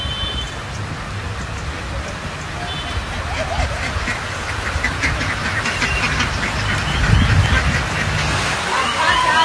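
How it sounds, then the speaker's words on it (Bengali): Ducks quack intermittently outdoors in Siliguri under steady rainfall, the calls partly masked by the rain's constant patter, with some voices faintly in the background. "সবচেয়ে সুন্দর লাগছে এই যে হাঁসগুলো"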